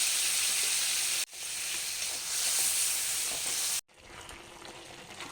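Steady hissing sizzle of bottle gourd, green chillies and cumin powder frying in a pan as they are stirred, interrupted by two short cuts, growing quieter toward the end.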